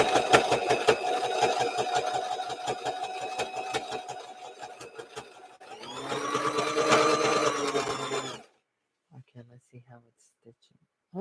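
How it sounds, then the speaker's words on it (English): A sewing machine stitches fabric for a handmade doll, a fast rhythmic clatter running steadily, then a second burst, before stopping as a voice speaks briefly. "it's stitching. That's doing good. I'm trying to stretch it as I sew."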